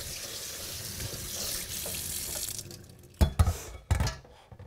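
Tap water runs steadily into a kitchen sink while seafood for a calamari salad is rinsed, a continuous broadband splash for about three seconds, then a few short knocks of dishes or pans near the basin.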